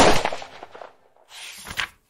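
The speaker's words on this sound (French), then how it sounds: "Paul veut qu'il reste et, pour le lui montrer, il lui tire dessus." A gunshot sound effect with a sharp, loud blast that decays quickly, followed by a quieter second burst about a second later, with no talk.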